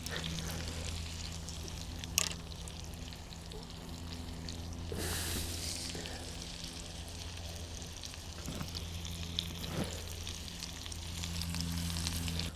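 An evening meal sizzles and fries on a camping burner, a steady close crackle over a low burner hum, broken by a few brief clinks and louder spitting bursts.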